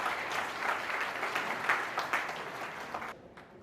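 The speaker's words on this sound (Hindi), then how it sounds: "तालियों के साथ स्वागत किया जाए।" An audience at a community education seminar applauds to welcome a speaker: steady, moderately close clapping from many hands that continues for about three seconds, then stops abruptly.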